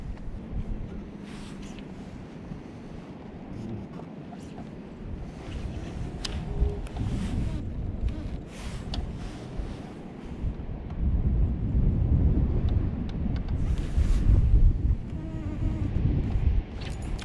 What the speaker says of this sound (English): the wind is blowing 100 miles an hour